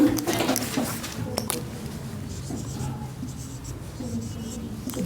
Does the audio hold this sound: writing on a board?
yes